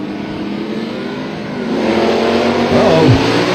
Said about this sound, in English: Here's your next pair of cars coming up to the line